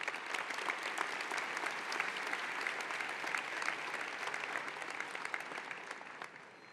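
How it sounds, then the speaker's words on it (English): Commencement crowd of graduates applauding, a dense, steady roar of many hands clapping at an even level, tapering slightly at the end. "So give yourselves a round of applause to celebrate another battle won"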